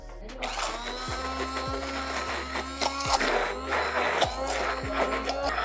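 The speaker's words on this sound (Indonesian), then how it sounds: "ini hand blender" A hand blender purees durian mochi filling that contains whipping cream, giving a steady close motor whir with rhythmic dips in pitch as the blade works through the thick mixture, with kitchen clatter in the background.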